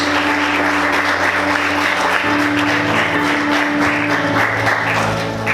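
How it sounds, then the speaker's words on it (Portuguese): A church congregation applauds the Lord in a steady, loud wash of clapping with a low sustained hum beneath, continuing for several seconds. "Vamos aplaudir o Senhor bem forte."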